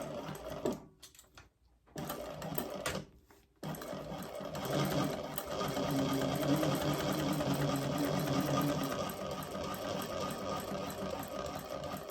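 A sewing machine stitches a seam in a bag, its motor whirring in short starts and stops at first, then running steadily in a long even burst close by.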